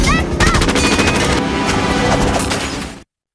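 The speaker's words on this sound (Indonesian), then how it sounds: "Bahlul muncul dari sisi lain, mencoba menembak Jokowi" Gunfire in an action scene, a dense sustained burst of rapid shots and booms, loud and continuous throughout before cutting off abruptly.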